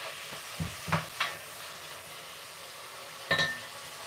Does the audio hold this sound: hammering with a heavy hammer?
no